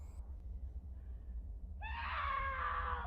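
In the horror film The Forest (2006), a woman named Sarah screams in hysterical horror. After a quiet stretch, one loud, sustained, shrill scream breaks out and holds to the end.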